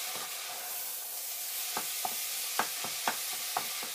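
Meat sizzles in a pan with garlic, butter, salt and pepper, a steady soft frying hiss broken by irregular louder pops and spatters; nobody speaks.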